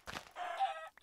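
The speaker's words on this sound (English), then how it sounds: "Dude, I just killed so many chickens." Video game chickens clucking and crowing in a quick burst, a short flurry of fowl calls followed by a sustained rooster-like cry, close and fairly faint.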